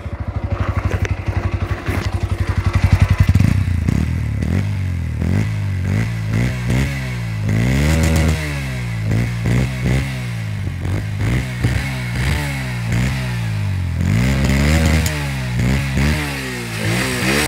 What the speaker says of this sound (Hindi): जैसे कि आपने N S one twenty five का साउंड सुना